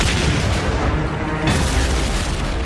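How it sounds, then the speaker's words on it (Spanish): Continuous heavy booming rumble of artillery fire, dense and loud, with a sharper surge of blasts halfway through. "Nos tanteaban con disparos de artillería."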